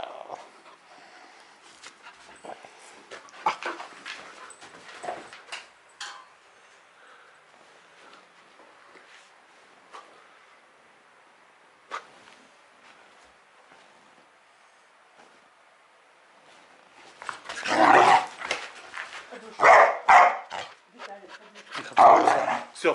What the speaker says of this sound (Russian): Загрызла собака.